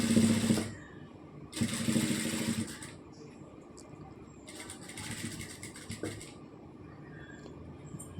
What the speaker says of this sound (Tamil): இந்த மாதிரி தான் போட்டு அப்படியே ஒரு தையல் போட்டுக்கலாம்.